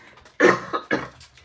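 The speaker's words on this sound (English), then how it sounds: "Now I'm gonna be coughing for a little while" Two sharp coughs close to the microphone, about half a second apart, followed by a faint breathy trail.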